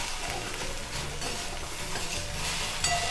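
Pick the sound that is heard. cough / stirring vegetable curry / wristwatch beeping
stirring vegetable curry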